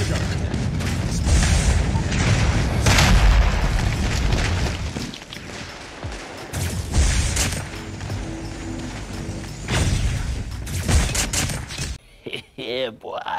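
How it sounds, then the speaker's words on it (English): Heavy explosions and rapid gunfire from an airstrike in the mobile shooter COD Mobile, with loud, dense booms rolling one after another, a brief lull, then more blasts before a sudden drop into quieter game sounds. "Enemy airstrike"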